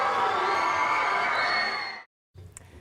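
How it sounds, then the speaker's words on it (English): A studio audience at a TV talk show cheers and whoops loudly in a dense, sustained roar that fades out after two seconds, followed by a brief pause and some scattered crowd noise. "That is plenty worth bringing on the applause"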